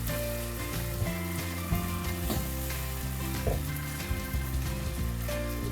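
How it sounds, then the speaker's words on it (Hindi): Diced tomatoes fry in a pan over a high flame for a chicken pasta, a dense, continuous sizzle with occasional stirring clatters and pops, close and steady without any talk. "अब इनको थोड़ी देर के लिए कुक होने दें और फ्लेम को आप बेशक हाई रखें इस पॉइंट पे।"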